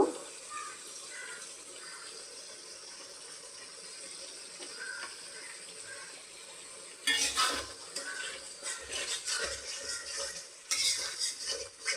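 Yogurt is stirred into frying spices in a pan. A steady sizzle runs throughout, and from midway a spoon starts scraping and stirring in louder, irregular bursts against the pan.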